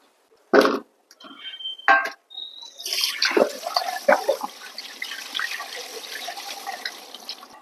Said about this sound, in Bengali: মাছ ভালোভাবে ধুয়ে পরিষ্কার করে নিয়েছি।